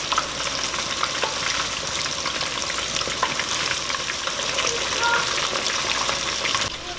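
Catfish fillets fry in a hot pan, giving a steady, dense sizzle and crackle that runs unbroken and fairly loud from start to finish, with no one talking.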